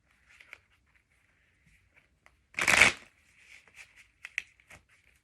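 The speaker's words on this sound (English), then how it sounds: "Let's pull one more card." Tarot cards shuffled for a reading, one loud close riffle burst in the middle surrounded by faint flicks and soft card taps in an otherwise quiet room.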